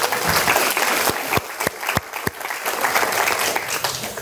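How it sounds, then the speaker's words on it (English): Chamber of commerce luncheon audience applauding a long-running local bank, a few seconds of full, steady clapping with sharp close claps scattered through it. "Let's give them a big round of applause."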